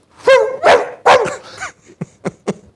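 A man imitates a dog barking with his voice, a few loud yapping barks in quick succession followed by shorter, sharper yips, close and alone with no other talk.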